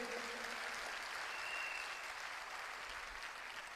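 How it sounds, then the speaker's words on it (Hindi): Steady, dense applause from an audience at a direct selling company event, continuous clapping without a break, moderately loud and filling the whole stretch. "मैं चाहूंगा एक बार तालियां जोरदार डॉक्टर श्री अशोक भाटिया जी के लिए।"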